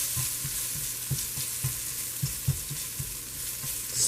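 Food sizzles in a frying pan while being tossed and stirred, with soft regular scrapes and shakes repeating about twice a second over a steady close crackle of hot oil; no one speaks.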